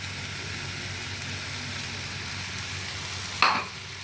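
Ginger garlic paste goes into hot oil for anda do pyaza, producing a steady background sizzle with a brief sharp spatter near the end, and no one talking.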